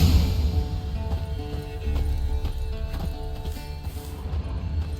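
Horse hooves clip-clopping in The Witcher 3, steady rhythmic hoofbeats at a walking pace, close and clear over a low ambient bed, no talk.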